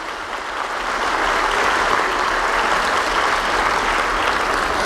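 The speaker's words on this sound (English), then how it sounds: "I would love to give a round of applause to the Ad Club staff for all of their hard work" Conference audience at a media innovation day giving a sustained round of applause, the clapping swelling after the first second and holding dense and loud throughout.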